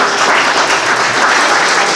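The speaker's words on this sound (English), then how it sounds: "Let's give him a round of applause" Audience applause at a Veterans Day ceremony, a steady dense clapping from a crowd that holds evenly loud for the whole stretch with no talking over it.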